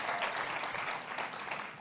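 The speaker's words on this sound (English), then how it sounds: "that deserves applause" Brief, fairly faint applause from a talk audience, a short even patter of many hands heard alone for under two seconds.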